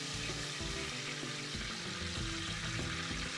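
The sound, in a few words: water added to hot mustard oil in a pressure cooker, sizzling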